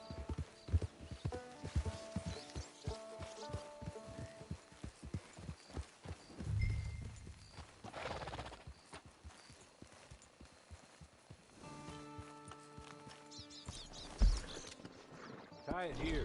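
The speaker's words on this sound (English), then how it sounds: "It's your horse." Horse hooves clip-clopping at a walk in the video game Red Dead Redemption 2, a steady rhythmic stream of moderate, near hoofbeats under game music, with voices talking over parts of it.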